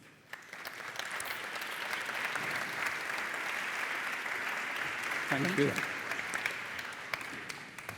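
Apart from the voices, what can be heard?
audience applause for the speaker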